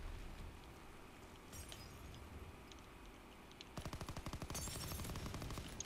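Rapid bursts of Call of Duty WWII gunfire, faint at first and then a louder, sustained rattling volley near the end, with no talking.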